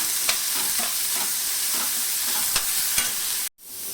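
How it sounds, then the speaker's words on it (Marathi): Boiled cluster beans stirred into turmeric and spices in a hot pan, giving a loud, steady sizzle with a few light spatula clicks before it cuts off abruptly near the end. "आपण जी गवार उकडून घेतली होती ती याच्यामध्ये सगळी टाकून घ्यायची मिक्स करायचं"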